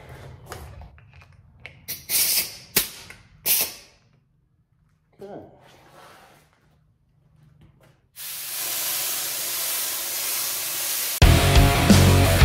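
Several short hissing bursts from a Harbor Freight spray gun painting a Cushman, a pause, then a long continuous spray hiss that grows louder near the end.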